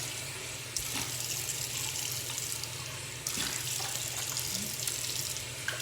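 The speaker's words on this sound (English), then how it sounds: "What I am going to do is just rinse my face with water." Tap water runs steadily into a sink with a broad rushing hiss, broken by splashes as a face is rinsed.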